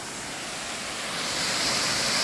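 A waterfall in an outdoor nature setting gives a brief, steady rushing roar of falling water, broad and hissy and growing slightly louder, with no voices.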